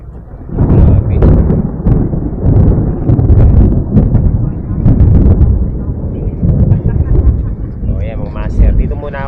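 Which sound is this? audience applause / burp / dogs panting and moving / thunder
thunder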